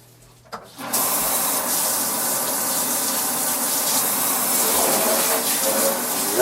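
Running water gushes steadily from a faucet over a newborn Cavalier King Charles Spaniel puppy, starting abruptly after a brief pause and continuing as a loud, even spray and splash.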